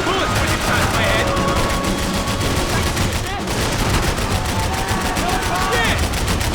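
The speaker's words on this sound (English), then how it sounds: "I can't concentrate with bullets when you pass my head!" Dense automatic gunfire rattles nonstop in the shooter game Max Payne 3, loud rapid bursts layered with whizzing bullets and occasional voices shouting over the barrage.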